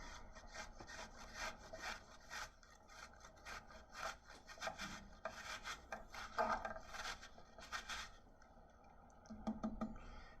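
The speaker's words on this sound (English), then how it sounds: "let's start by trying this grater and see what happens when I try to run the apple over it" An apple rasps repeatedly against a grater in close, rhythmic back-and-forth strokes, scratchy and gritty, with small pauses between runs.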